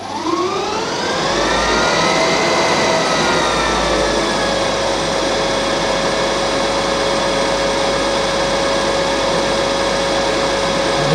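A machine tool cuts steadily at about 3000 RPM, taking roughly ten thousandths per pass: a loud, constant whine with a rising tone as it spins up, then an even drone throughout, with no talking.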